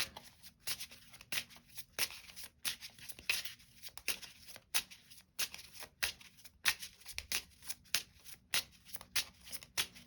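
Tarot cards are shuffled and drawn at close range, a faint, rapid series of papery riffles and flicks in uneven bursts, with no voice over them.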